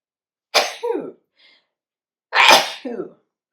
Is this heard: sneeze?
yes